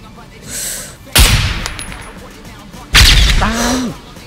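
Two sharp, loud gunshot blasts in SCUM, spaced over a second apart, each ringing out with a decaying tail, alongside a faint distant shot beforehand.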